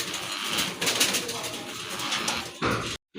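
Pigeons coo softly close by, low murmuring calls repeating amid some rustling, with a brief silent gap near the end.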